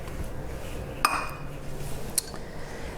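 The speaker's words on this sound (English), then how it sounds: "In go the eggs." Eggs cracked against a bowl and dropped into whole wheat muffin batter, giving two brief, fairly close clinks of shell and glass spaced about a second apart over a quiet kitchen background.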